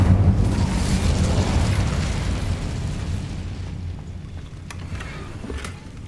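A fire spell cast in Hogwarts Legacy sets off a heavy, rumbling whoosh of flame that starts loud and slowly fades into a low roar. Faint crackles carry on near the end.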